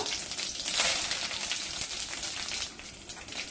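Mustard seeds, cumin and curry leaves sizzling in hot oil, a loud crackling, spattering hiss with tiny popping bursts, close and continuous before easing slightly at the end.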